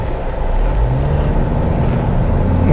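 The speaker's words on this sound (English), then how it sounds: "I'm going to try to accelerate and see how quickly this car picks up" A 2022 Honda Civic Sport accelerates, its engine note rising in pitch as it pulls, a loud, steady interior drone with rising tones over road noise.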